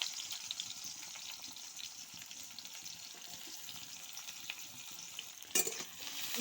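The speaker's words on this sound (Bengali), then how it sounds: "ভালো করে ভাজিয়ে নেবে" Onions frying in oil in a pan over a wood fire, a steady soft hissing sizzle with faint crackles and one brief louder burst near the end, close but quiet, no voices.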